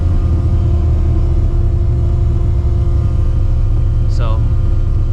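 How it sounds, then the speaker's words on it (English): A supercharged 600hp New Edge Mustang GT engine drones loud and steady from inside the car under hard throttle, a deep constant rumble with a voice talking over it. "wide open throttle."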